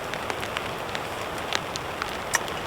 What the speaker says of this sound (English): The raindrops are just starting to turn into snowflakes.